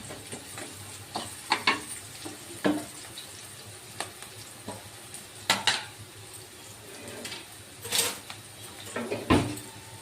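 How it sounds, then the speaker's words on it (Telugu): Onions sizzling lightly in a pan for tomato rice, with scattered clinks and scrapes of a utensil against the pan standing out over a low, steady frying hiss; no talking. "ఆనియన్స్ వేగినాయండి లైట్గా"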